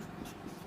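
Brief stroke of writing on a board during a Class 11 trigonometry lesson, a soft continuous scratchy rub lasting under a second with no talking.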